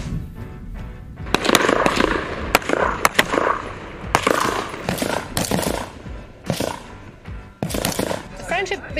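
M4 rifles firing at a German-American partnership shooting competition on an outdoor range, sharp cracks in rapid clusters and bursts, some close and loud, with voices talking in between.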